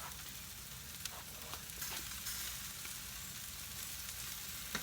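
Corn cooking on a hot steel grill at a barbecue, sizzling steadily and close up, a continuous bright hiss with faint crackles and no talk.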